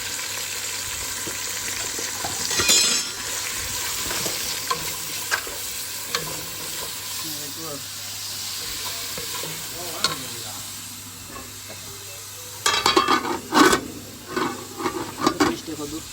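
Onions and garam masala frying in hot oil, with a steady sizzle under repeated scraping stirs and a burst of louder stirring clatter near the end, while someone talks quietly in the background.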